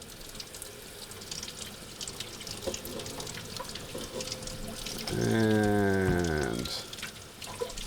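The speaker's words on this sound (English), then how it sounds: "I'm going to put it under the tap" Cold tap water runs into a sink over a pressure cooker as a steady rushing splash, with a brief harmonic hiss or whistle in the middle and a voice speaking faintly.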